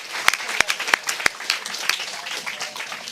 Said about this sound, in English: We're gonna clap again like we didn't just do it